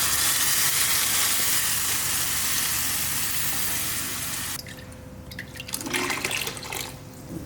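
Thick curd is poured into a cooking pan while making a Tamil-style buttermilk curry, giving a steady, close, sizzling, watery rush that stops abruptly partway through, followed by a few softer gurgles and splashes.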